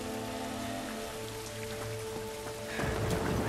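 Steady rain falls in the video game The Last of Us Remastered, a soft continuous patter on surfaces that swells slightly louder near the end, with no talking.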